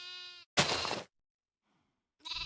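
Sheep bleating in Minecraft: several short, clean synthetic bleats in quick succession, separated by gaps of near silence, fairly close and clear.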